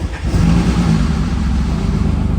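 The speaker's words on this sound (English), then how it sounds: "you saw me start my Aston Martin DB9 for the first time" Engine-swapped Aston Martin DB9 V12 revving hard: a loud, close, sustained low engine roar with rising and falling throttle pitch, heard alone.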